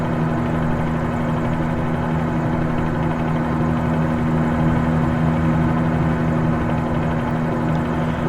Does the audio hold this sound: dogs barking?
no